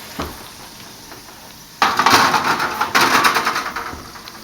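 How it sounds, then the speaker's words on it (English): A pan of lamb chops goes into an oven with a loud metallic clatter and scraping of cookware, two bursts of rattling after a quiet start. "So let me go ahead and just pop that in the oven."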